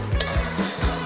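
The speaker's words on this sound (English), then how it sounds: "the juice and the brine that's residual on the olives is gonna kind of make a sizzling sound and kind of deglaze the pan a little bit." Spanish olives with their residual brine sizzle in a buttered pan, a close, steady crackle with repeated low scraping strokes as they are stirred.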